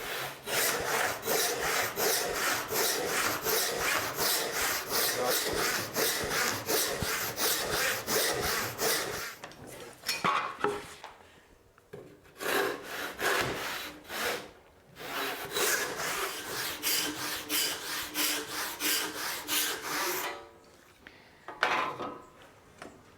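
A hand saw cuts through wood along a guide in quick, regular back-and-forth strokes, close and rasping, running steadily at first, then continuing in shorter bursts separated by brief pauses.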